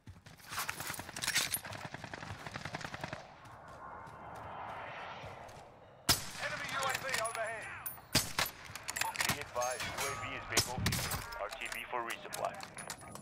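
Rapid bursts of gunfire in the battle royale shooter Call of Duty Warzone, dense crackling volleys near and loud, a brief lull, then more shots mixed with game effects and a voice talking.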